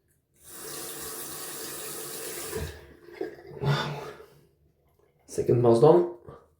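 A wet-shaving razor is rinsed under a running bathroom tap: a steady stream of water for a couple of seconds, then short splashy bursts as the blade is shaken under the flow, close by.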